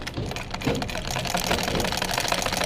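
An electric sewing machine runs steadily while stitching the strap of a hijab face mask, a continuous close, fairly loud motor whir and needle clatter lasting the whole stretch with no talk.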